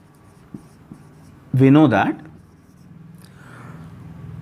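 A pen or chalk writing out a math derivation on partial derivatives makes a few faint ticks and scratches. A brief burst of speech comes in the middle.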